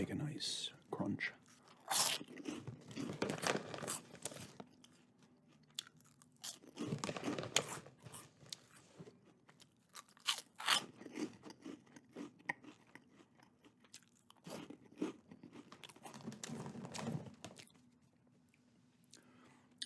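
Puffed Cheez Doodles crunched and chewed close to the mic in repeated bursts, with crinkly bag sounds and soft talk between bites.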